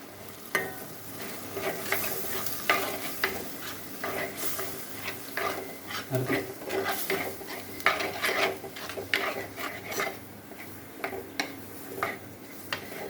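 Spice powder fries in an oily tomato, onion and ginger paste while a spoon scrapes and stirs the pan repeatedly, sharp scraping strokes over a steady close sizzle with no talk.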